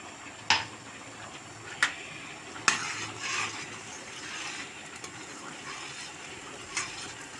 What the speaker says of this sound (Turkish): Karıştırmaya, kaynatmaya devam